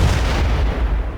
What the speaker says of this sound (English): Explosions abound, but Kaito's already fallen from the insects